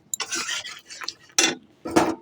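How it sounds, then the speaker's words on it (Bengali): Spoonful of yogurt being added to a pan of curry for chana paneer, giving a few distinct metallic scrapes and taps of a spoon against cookware, loud and close with short pauses between. "এরপরে দইটা দিয়ে দেবো।"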